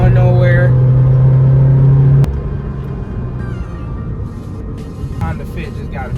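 A 2013 Scion FR-S engine holds a strained, steady note for about two seconds before abruptly dropping away to a lower road rumble and tire noise for the rest of the stretch.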